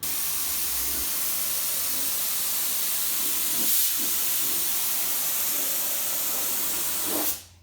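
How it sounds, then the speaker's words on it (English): A steady, loud hiss of a spray gun applying clear coat to a Fox body Mustang runs continuously for several seconds, then cuts off abruptly near the end. "we're getting ready to spray the clear now"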